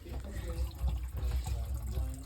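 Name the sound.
water draining through bathroom sink drain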